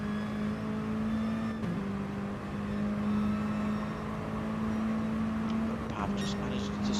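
Mini Cooper race cars racing at Autodromo Lago Maggiore, a steady engine drone with a firm low tone that briefly dips twice as gears change, with a commentator talking over it throughout.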